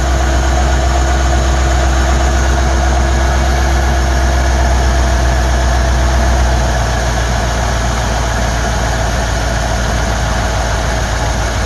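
A Chinese-made Ford 2100 carburetor on an engine not yet fully warmed up, idling low and steady with a continuous deep rumble, loud and close, no voices.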